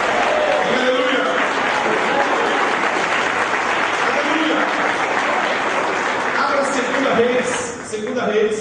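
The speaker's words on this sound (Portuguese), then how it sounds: "Aplauda Jesus pela vida do seu pastor." A church congregation applauds during a sermon, sustained dense clapping from a crowd that fills the space, with voices mixed in beneath the applause.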